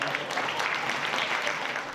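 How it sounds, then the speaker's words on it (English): Lawmakers applaud at a Legislative Council luncheon in Hong Kong as a guest enters the venue, a steady, dense round of clapping from many people indoors, sustained and even throughout without pause. "he was welcomed with a big round of applause"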